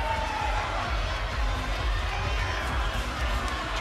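Steady crowd noise from spectators at a college men's volleyball championship between Long Beach State and UCLA, a dense, sustained roar with cheering and shouts throughout, fairly loud and continuous.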